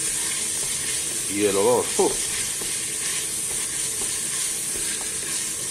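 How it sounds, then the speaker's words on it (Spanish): A pan of garlic, onion and pepper sofrito sizzles steadily and close up throughout, with a short spoken phrase partway through. "Y esto es un sofrito que lleva ajo, cebolla y pimiento, no lleva nada más todavía."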